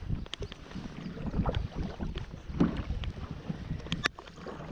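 Wind buffeting the microphone while kayaking on the St Croix River, a steady rumbling gust noise with faint paddle splashes and light knocks, no talk.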